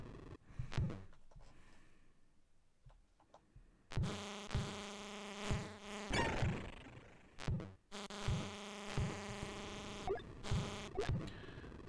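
Synthesized buzzing of bees in the Commodore 64 game Heatseeker, with harsh, droning electronic tones in repeated bursts and chip sound effects, no talk.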